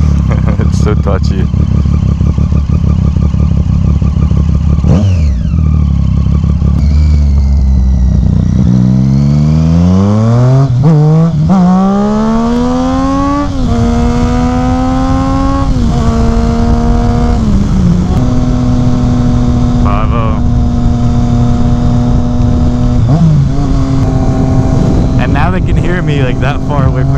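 A Triumph Street Triple fitted with a Two Brothers S1R Black Series exhaust is ridden, its engine droning loud and close as it revs up through the gears and settles, while the rider talks over it.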